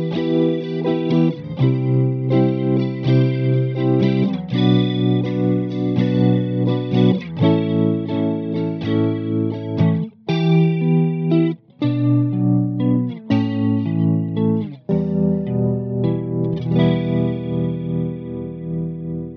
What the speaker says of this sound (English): So it, this effect, the rotary, is to emulate the Leslie speakers.